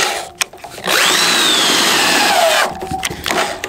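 A power drill whines at high speed for a couple of seconds, pitch sliding down as it bites, with clattering handling noises before and after.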